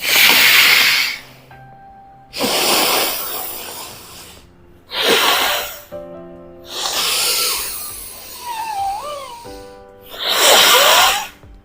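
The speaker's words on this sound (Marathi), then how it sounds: "एक नाकपुडी तुम्हाला अंगानं बंद करायचे आणि डाव्या नाकपुडीने तुम्हाला श्वास घ्यायचा आहे" Forceful alternate nostril breathing in anulom vilom pranayama, with five loud, hissing breaths in and out through the nose at a slow, regular pace, close to the microphone with gaps of quiet between them.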